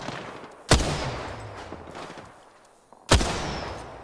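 Two loud, sharp gunshots ring out in the Apex Legends video game about two and a half seconds apart. Each cracks sharply and then decays into a rumbling tail over quieter background noise.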